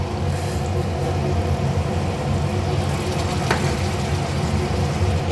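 Potatoes for aloo dum fry in a pan as hot water is added, giving a loud, continuous sizzle and bubbling hiss with faint stirring, close and steady throughout, no voices.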